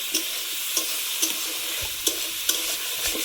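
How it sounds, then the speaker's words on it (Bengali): Shrimp fry in oil with turmeric powder, a soft continuous sizzle punctuated by regular clicks of a spatula stirring the pan about every half second, close and fairly quiet. "হলুদ গুঁড়ো দেবো, আর চিংড়িটা বেশি ভাজবো না"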